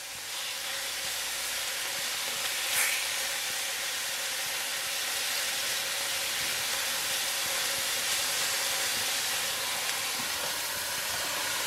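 Beef searing in oil in a pot with vegetables, a steady, loud broadband sizzle that hisses continuously and evenly throughout, with one brief sharper burst early on and no talking.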